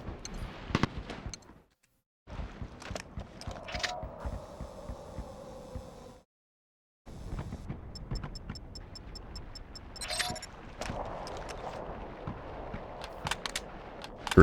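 A strategic airstrike in Mercenaries 2 pounds its target with a rapid series of explosive blasts and crackling bursts, broken by brief silent gaps, with some higher mechanical tones mixed in.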